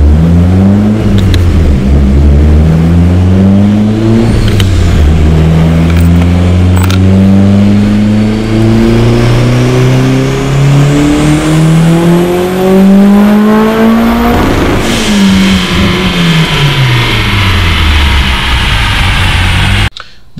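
A turbocharged front-wheel-drive DSM running E85 revs hard through long rising pulls, loud and close, with engine tone climbing steadily, a brief dip and another sweep, no voices.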